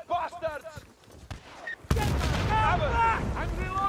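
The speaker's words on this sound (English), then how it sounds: "I'd like to know which prick is shooting rockets at me." Gunfire and rocket blasts in the Battlefield Bad Company shooter, scattered shots under soldiers' shouting, then a sudden loud explosion-like burst followed by sustained combat noise and continued yelling.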